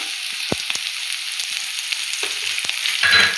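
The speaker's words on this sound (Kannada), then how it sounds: "ಇವಾಗ ಬೆಳ್ಳುಳ್ಳಿ ಹಾಕ್ಕೊಳ್ಳಿ." Garlic hits hot oil in a pan for rasam (thili saaru), producing a steady close sizzle broken by a few sharp pops and a light clink near the end, with no one talking.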